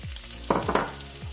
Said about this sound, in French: on va laisser cuire tranquillement en remuant